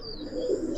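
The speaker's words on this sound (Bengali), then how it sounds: "তো এখানে 2 পেয়ার কবুতর, মাদিগুলো খুব সুন্দর।" Pigeons from a pen of Giribaz and coloured fancy pigeons coo softly and steadily nearby, a low murmuring call swelling slightly near the end over faint background rustle.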